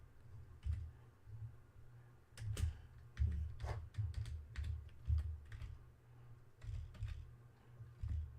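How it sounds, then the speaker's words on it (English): Keys clatter on a computer keyboard at a PC streaming setup, irregular bursts of close, crisp clicks over a steady low hum, with no talking. "So let's type here"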